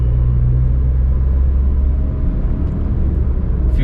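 A Maruti Suzuki Alto K10 pulling up through the gears at moderate throttle makes a loud, close low rumble that eases slightly partway through as a shift happens, then carries on steadily with no voices.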